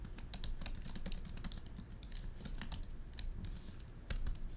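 Rapid, uneven key clatter from typing on a MacBook Pro keyboard, close and steady with crisp individual clicks and a short louder burst near the end, no talking.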